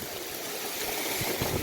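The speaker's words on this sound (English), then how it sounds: "This is the creek behind the house." A flooded creek runs swollen behind a house in the North Carolina mountains during a hurricane, its steady broadband rush of water close and constant, slightly swelling toward the end.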